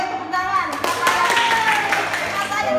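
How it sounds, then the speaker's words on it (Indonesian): Audience clapping at an Indonesian presentation on inclusive disaster management, with a burst of hand claps that keeps going under a voice and some chatter. "oke, tepuk tangan."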